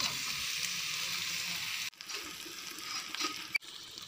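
Taro pieces tumble into onions fried until reddish, and a steady close sizzle breaks off abruptly, then resumes with crackling and a sharp clink near the end.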